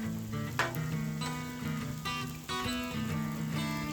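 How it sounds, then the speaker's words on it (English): Chicken fajitas sizzle loudly and steadily in a cast iron skillet on a Blackstone grill, with continuous crackling spatter and occasional sharper pops. "cast iron skillet, and you get that sizzle and that show."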